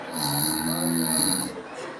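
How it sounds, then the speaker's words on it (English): A single drawn-out snore, a rough nasal rumble with a whistling edge, rises and fades within a couple of seconds. "Snoring."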